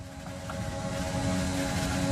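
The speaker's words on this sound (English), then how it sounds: "Let's listen to the engine sound." A Super Formula race car engine in a racing video game, heard onboard at full throttle: a sustained, high, steady drone that builds slightly in loudness, with no talk.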